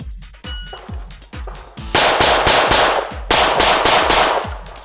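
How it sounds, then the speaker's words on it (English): A Tanfoglio Limited Pro pistol fires rapid shots during a production gun competition, with about a dozen sharp, loud reports in quick bursts and metallic clangs from steel targets between them. No one speaks. "Alex runs a Tangfolio Limited Pro"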